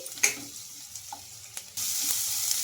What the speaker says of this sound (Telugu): ఇంకా కొంచెం పసుపు పచ్చివాసన పోయే వరకు అయితే ఫ్రై చేసుకోవాలి